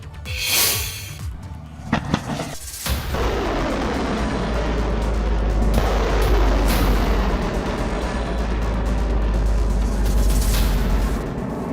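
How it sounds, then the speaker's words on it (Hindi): North Korean missile launch opening with sharp blasts, then a loud sustained rumbling roar that fills the remaining seconds, close and powerful. "बटन दबा, मिसाइल फायर"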